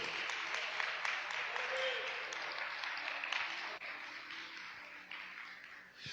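A church congregation applauds during a Portuguese-language sermon, a fairly faint, diffuse wash of clapping that slowly fades, with some background murmur.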